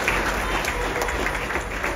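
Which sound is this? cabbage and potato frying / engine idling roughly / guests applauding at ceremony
guests applauding at ceremony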